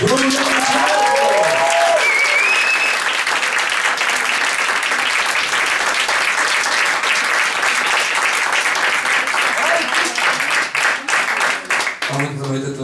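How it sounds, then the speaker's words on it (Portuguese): A comedy gala audience at a stand-up comedy show applauds a comedian with loud, dense clapping and a few cheers, the applause fading near the end as a voice begins to speak. "palmas para Bruno Demasiado."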